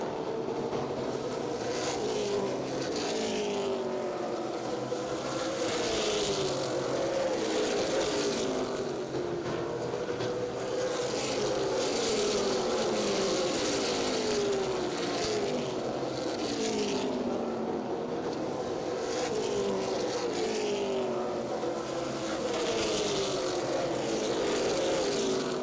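Super late model race cars roar at full throttle around the half-mile Concord Speedway oval, a dense, continuous engine drone with engines swelling and fading as they pass, loud and sustained throughout.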